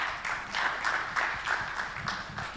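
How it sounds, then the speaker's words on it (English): Audience at a general assembly giving a round of applause, moderately distant clapping with a pulsing, uneven rhythm of individual claps over a couple of seconds. "Let's give him a round of applause."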